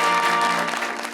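A short burst of studio audience applause for the host of an Eid talk show, dense clapping over a faint held musical tone that fades slightly at the end.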